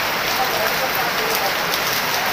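Heavy rain hammers down at an open-air vegetable market, a loud dense steady patter close by.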